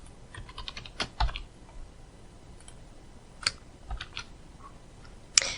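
Code being typed on a computer keyboard: clusters of close, crisp key clicks with pauses between, a few heavier keystrokes, and no talking.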